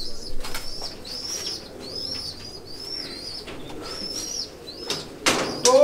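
Pigeons of a flying breed in a loft, with repeated soft cooing calls and a burst of wing flapping near the end, all close and moderately loud.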